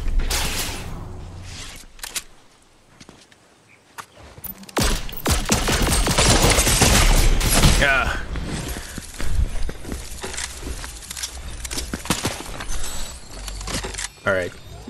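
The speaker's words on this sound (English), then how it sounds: "Oh, somebody's shooting at me." Gunfire in the video game Fortnite comes in loud, rapid bursts of shots, some clustered and some scattered, over game noise, with a voice talking at times.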